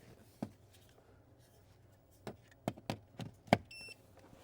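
An OBD2 scanner dongle plugs into a car's diagnostic port with a few faint plastic clicks and taps, the louder click near the end; quiet interior, no talk.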